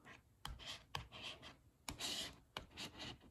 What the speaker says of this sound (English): I'm gonna take my Victoria's Secret credit card and smooth it out.